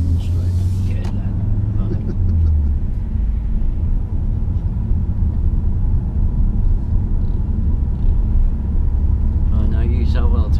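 Car engine rumbling steadily from inside the cabin during a driving lesson, a low hum that shifts in pitch early on, with voices talking over it throughout.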